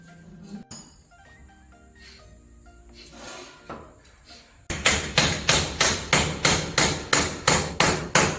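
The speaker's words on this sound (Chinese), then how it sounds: "直接用旧木板上钉子吧" Hammer driving nails into old wooden boards while reinforcing a workbench, heard first as scattered knocks and clinks, then a close, loud run of about a dozen steady, evenly spaced strikes.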